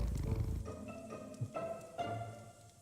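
A cat in the video game Hero-U purrs in a low rumble, close and soft, pulsing in several slow swells over a faint background hum.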